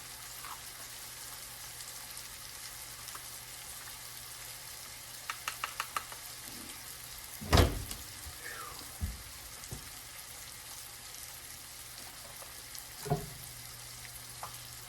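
Food fries softly in a pan while being stirred, a quiet sizzle with a few clinks and scrapes of a utensil, one louder knock midway, in a home kitchen.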